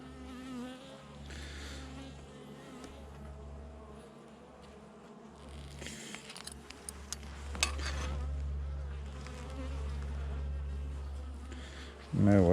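Buckfast honey bees buzz around an open hive as its frames are inspected, a continuous droning hum that rises and swells toward the end, with people speaking French over it.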